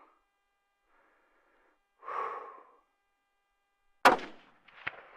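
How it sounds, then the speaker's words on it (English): A 6.5 Creedmoor rifle fires a 143 grain Hornady ELD-X at ballistics gel 200 yards out: one sharp, loud report, then a fainter crack less than a second later, preceded by a brief breathy rustle. "We're going to get a chronograph of it, and then we're going to shoot the ballistics gel with it."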